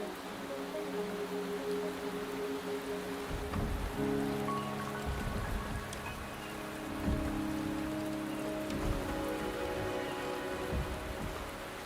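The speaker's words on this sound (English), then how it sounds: "The rain is subsiding, and the sky will soon clear." Steady rain pours in the video game Wuthering Waves, a continuous close hiss of drops on surfaces with soft low rumbles underneath and no voices.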